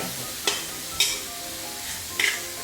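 Peeled, butterflied shrimp stir-frying in a pan over medium-high heat with jicama for a home-style dish, a steady close sizzle broken by three sharp spatula scrapes and clinks.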